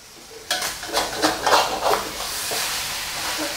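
Bitter melon and egg being stir-fried make several rhythmic scraping strokes of a utensil against the pan, over a faint sizzle that settles into a quieter hiss.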